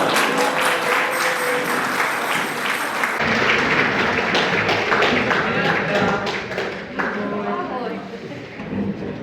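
An audience applauds at a dance evening in a club, dense sustained clapping that thins and fades toward the end while a voice begins speaking over it.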